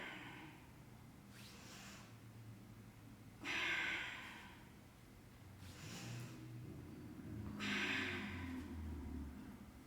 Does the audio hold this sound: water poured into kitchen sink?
no